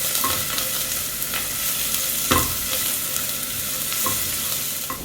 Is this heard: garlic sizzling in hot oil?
yes